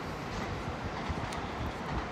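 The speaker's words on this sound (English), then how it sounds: "there's a Shinkansen there" A Shinkansen bullet train passes through Tokyo as a faint, distant, continuous rumble with a soft rushing wash and no distinct clicks.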